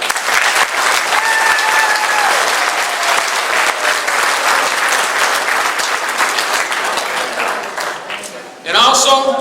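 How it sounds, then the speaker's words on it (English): Loud, dense applause from a banquet audience at a racing awards night, steady for about eight seconds before a brief dip and a fresh burst with some cheering at the end. "I'd like everyone here to give a great round of applause"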